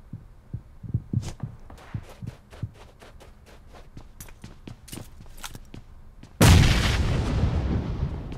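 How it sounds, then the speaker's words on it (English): Rapid bursts of gunfire in PUBG Mobile on the Miramar map, sharp repeated shots with some echoing booms, then a loud sustained wash of noise near the end. "multiple freaking gunshots in here"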